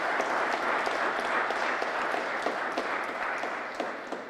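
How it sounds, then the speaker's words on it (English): Audience applause following a hardball handball exhibition match at an All-Ireland Masters championship, a steady, dense wash of many hands clapping that holds evenly throughout and fades only slightly at the end. "a big round of applause there for both players there"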